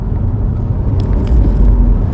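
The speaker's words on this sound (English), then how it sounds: "I'm doing 70 kilometers an hour and the car's nice and quiet" Mini Cooper S fitted with a K&N panel air filter cruising in sixth gear at 70 km/h, a steady low engine and road rumble heard from inside the cabin with no talk.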